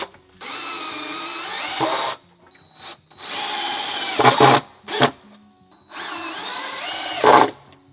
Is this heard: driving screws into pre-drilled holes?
yes